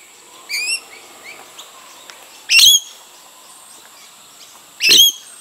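Wild birds chirp outdoors in a quiet setting, with two loud, close bursts of bright, rapid trilling calls and a few fainter chirps and tweets scattered between them.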